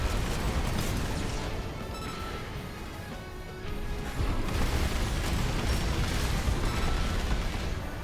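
Heavy mech cannon shells in Armored Core VI slam into a boss amid a dense, loud wall of booming impacts and battle rumble. A brief lull comes midway before the heavy blasts resume.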